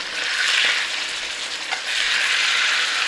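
Seasoned chicken sears in a hot pan, giving a loud, close, continuous sizzle that stays dense and even, with a brief dip partway through as the pieces are turned, and no voices.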